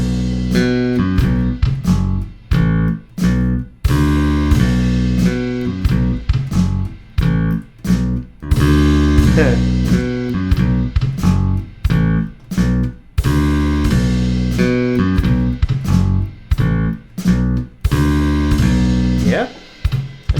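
Bass guitar picked with steady downstrokes at a slower tempo, each note clear and separate in an even, repeating rhythm, with no voices over the playing.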